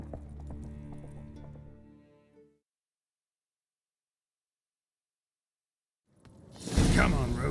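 Horse sounds from The Witcher 3: a tonal stretch fades into complete silence, then a loud rush of hooves and swishing bursts in close to the listener.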